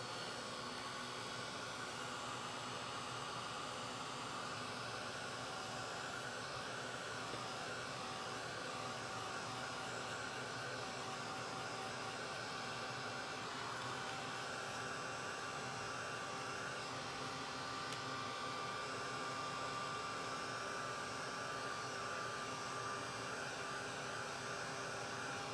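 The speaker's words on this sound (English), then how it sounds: "We're going to use the Ranger heat tool instead of the heat gun" A Ranger heat tool blowing steadily for crafting, a faint, even airy whine that holds unbroken throughout with no talking.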